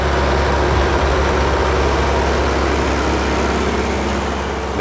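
A 1965 Schlüter S650 tractor engine idles steadily at close range, a constant low rumble with no talk over it.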